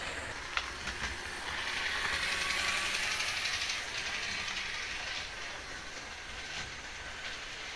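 Miniature model locomotive with a stiff, unlubricated motor running on a layout, a continuous whirring and rattling hum that swells in the middle and then settles, close and alone without talk.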